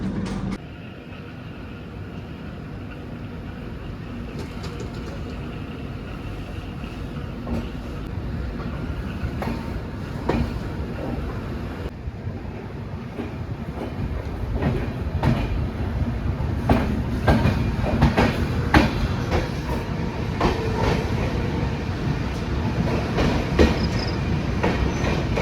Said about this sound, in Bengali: তো 5 মিনিট দাঁড়িয়ে ট্রেন ছেড়ে দিল শান্তিনিকেতন থেকে